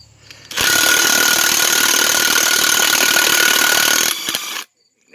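A Craftsman power tool hammers loudly and continuously on the rear brake hub of a 2004 Dodge Ram 3500, a dense, rapid rattling burst of about four seconds that stops abruptly.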